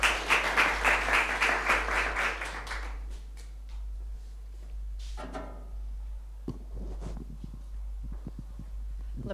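Audience at a social-innovation conference breaks into lively applause, dense clapping for about three seconds that quickly dies away, followed by quiet room noise, a low steady hum and a few scattered bumps.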